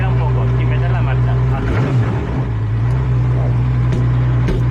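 A racing prototype car's engine revs lightly in neutral, a steady loud drone that swells briefly in pitch once, close up, with voices talking faintly over it.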